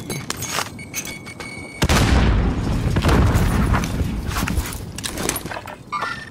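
A grenade goes off in Call of Duty, one sudden loud boom followed by a long rumbling decay, with scattered game noises before and after.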